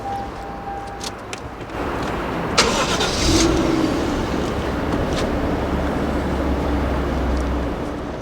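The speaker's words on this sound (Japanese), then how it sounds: "ちょっとエンジンかけちゃうね。" Engine of a Toyota Chaser JZX100 Tourer V cranks and catches at about two seconds, then settles into a steady, close idle with a low rumble for several seconds.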